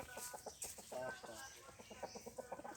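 Layer hens cluck softly and repeatedly at close range in a farmyard, with faint, low-level background noise.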